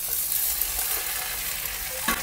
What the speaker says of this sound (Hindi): अब कुंदरू को भी अच्छी तरीके से भूनते हैं